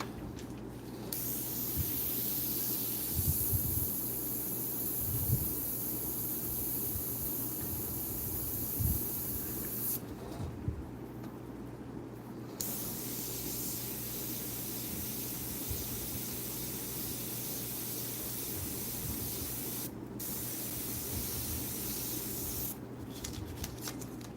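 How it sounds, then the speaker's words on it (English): Airbrush spraying paint while blending the edge of a painted rose, a steady close hiss running continuously with brief pauses in the flow. "I'm melting the airbrush and the paint together to get that edge melted in"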